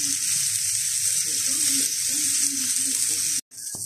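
Onions fry in bacon fat in a pan, a loud, even sizzle that carries on without a break, then a brief cut and a clink just before the end.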